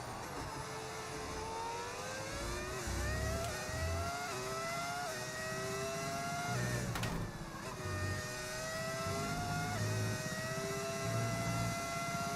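A high-pitched V10 Formula 1 car engine in the F1 25 video game, Mexican Grand Prix, screams continuously, its pitch climbing through gear changes with brief dips between shifts, loud and steady throughout.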